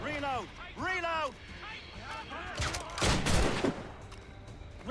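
A ship's cannon volley booms during an Assassin's Creed Rogue naval battle, a short broadband roar of shots bursting midway after shouted crew voices, with talk continuing faintly as it fades.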